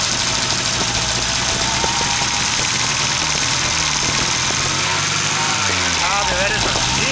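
Small engine running roughly and flooding with excess fuel, a steady mid-range drone with uneven knocking pulses, recorded close, with people talking over it.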